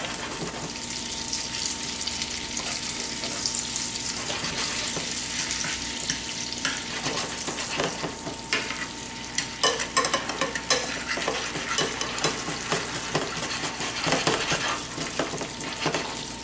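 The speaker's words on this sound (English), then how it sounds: "I'm going to add the other tablespoon of butter and 1 tablespoon of brown sugar. Going to melt these together." Butter and brown sugar melt together in a pan, giving a steady hiss and sizzle with scraping stirs and clinks throughout; no one speaks.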